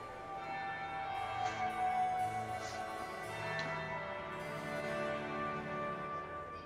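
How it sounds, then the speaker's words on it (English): A bell rings softly at a party in the Winter Palace in the video game Dragon Age: Inquisition, sustained chiming tones hanging faintly over a quiet background. "That would be the second bell."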